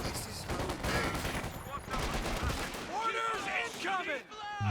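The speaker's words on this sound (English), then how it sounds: "Suppression working nicely there by the MG34." Dense game-battle gunfire from Company of Heroes 2, with an MG34 machine gun laying down suppressing fire, crackling continuously under a commentator's talk while whistling tones streak through the second half.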